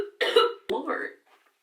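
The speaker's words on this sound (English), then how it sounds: "I've had a bad cough for like 2 weeks" Two harsh, wet coughing bursts from a woman who has had a lingering cough, close and loud, the second shorter, with a faint breathy tail afterward.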